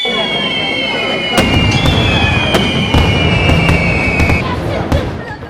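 Fireworks at a Maltese village festa crack and boom in loud, irregular bangs over a dense roar of crowd noise, with a high whistling tone drifting through the first few seconds.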